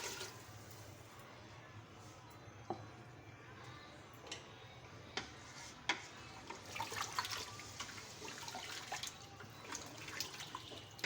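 Water poured from glasses into a pot of cooked black chickpeas to make the broth, a quiet, steady splashing with a few light clinks and taps.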